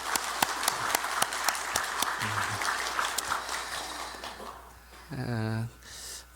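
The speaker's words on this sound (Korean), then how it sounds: "힘내시라고 박수 한번 하겠습니다" A church congregation applauds its choir: a brief burst of scattered claps that thins out, followed by a voice speaking and humming close by.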